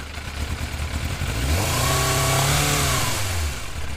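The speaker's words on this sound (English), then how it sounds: "So you rev it up, you very lightly rev it up. You hear how it stumbles." A used motorcycle engine idles, then is lightly revved, the pitch rising unevenly and sagging as it stumbles, pointing to a carburetion problem, heard up close with no voices.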